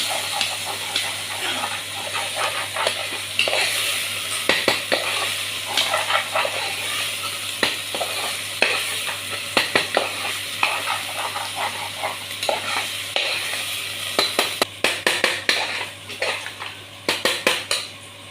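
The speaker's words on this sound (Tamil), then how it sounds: "சிக்கனுக்கு வந்து இஞ்சி பூண்டு பேஸ்ட் நல்லா வதக்கலாம்" Ginger garlic paste sautés for chicken in a pan, a steady sizzle with repeated scraping and clanking of a ladle against the vessel, and the stirring grows sharper and more frequent toward the end.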